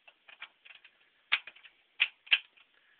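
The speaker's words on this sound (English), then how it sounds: "It's a T-handle wrench that clicks out at exactly 60 inch-pounds." A T-handle torque wrench clicks out at 60 inch-pounds while clamps on a sewer pipe repair are tightened evenly: a string of small, sharp ticks with three louder, crisp clicks standing out, close and alone with no talk.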